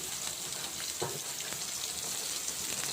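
Chopped onion and green chilli frying in a pan for rasam, an even crackling sizzle held close and steady, with a couple of light stirring scrapes, no one speaking.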